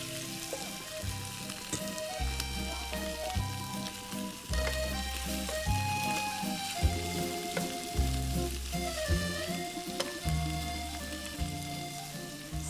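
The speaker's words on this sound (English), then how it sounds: "this pan is pretty hot, so we're going to add the shrimp" Shrimp sizzling in a hot pan during an end-of-summer Italian dinner produce a steady frying crackle beneath prominent background music, continuous and moderately close.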